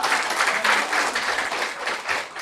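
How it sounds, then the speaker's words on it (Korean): A church congregation gives a warm round of applause to welcome children, many hands clapping together in a lively, pulsing burst that stays fairly loud throughout its short span. "큰 박수로 환영하겠습니다."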